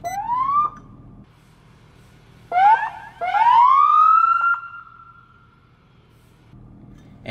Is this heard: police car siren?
yes